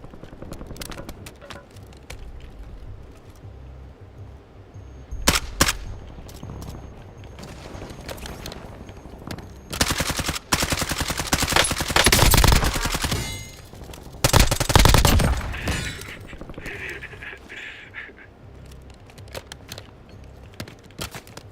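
Rapid video-game gunfire crackles throughout, with bursts of automatic fire and louder volleys swelling in the middle before settling back into steady shooting.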